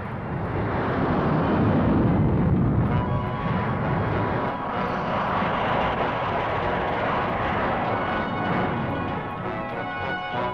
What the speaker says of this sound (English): Presenting the renowned Frecce Tricolore, high-speed aerobatics with the Italian Air Force.